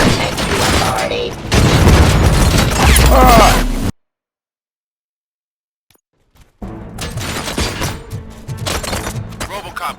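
Bursts of rapid gunfire and mechanical clatter from the game RoboCop 3, cut by a few seconds of dead silence before the shooting and commotion resume.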